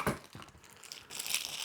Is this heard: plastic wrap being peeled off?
yes